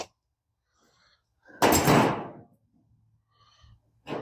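A car door on a Project Sundance build slams shut once after being reassembled with its inner panel, a single loud close standing alone in a quiet space, followed by faint movement.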